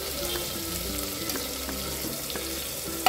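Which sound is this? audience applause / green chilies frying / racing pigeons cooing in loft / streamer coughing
green chilies frying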